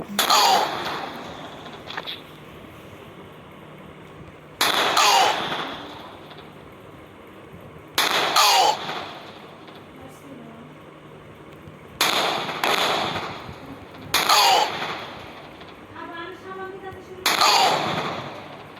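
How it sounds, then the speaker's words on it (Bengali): Gunfire in a video game comes as several loud, sharp bursts of shots spaced a few seconds apart, with quieter stretches between them. "তো আমাকে গুলি করতে হবে।"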